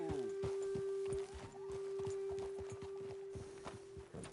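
Horse hooves clip-clop at a steady walking pace in the Red Dead Redemption 2 video game, soft and somewhat distant, with a faint constant tone running underneath.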